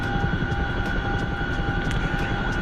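A helicopter lifting off under a heavy load on a combat simulator server, a steady close rotor-and-engine drone with a rhythmic blade thump and a sustained turbine whine, no voices.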